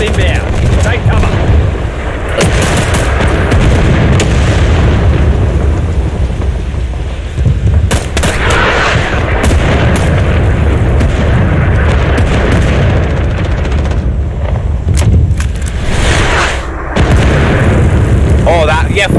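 An artillery fire support strike lands in the Vietnam War shooter Rising Storm 2 Vietnam: a loud, sustained barrage of deep booming explosions and crackling impacts, with repeated blasts and constant rumble, mixed with battlefield gunfire.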